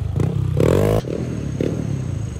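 A motorcycle fitted with a new pipe is being street tuned and revs sharply. It blips up to a brief high-pitched roar, then drops back to a loud, choppy idle close by.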